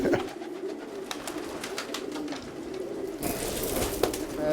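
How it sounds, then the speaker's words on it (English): Pigeons coo in a pigeon loft, soft repeated throaty calls close by over a low ambient background, with a brief rustle or flutter near the end. "this is my pigeon loft."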